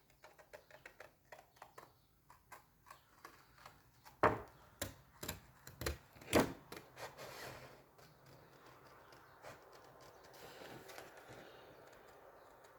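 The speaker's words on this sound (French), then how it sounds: "je vais découper à la main, hein, puisque là, j'ai pas de perforatrice pour ça" Paper card being cut by hand with scissors while crafting a greeting card; a series of quiet, close snips and crisp rustles, with a few louder cuts in the middle.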